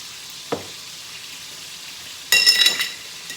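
Scallops drop into a hot pan with a brief thump, then after a quiet stretch a loud burst of sizzling frying flares up and holds for about a second before easing.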